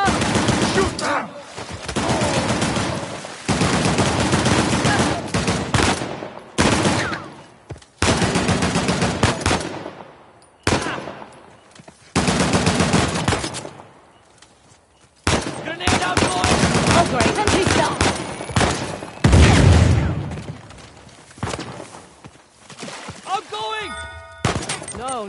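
Gunfire erupts during an ambush in the video game Uncharted The Lost Legacy, with repeated bursts of shots and loud bangs coming in waves over about 25 seconds, broken by short lulls, while voices shout over the fight.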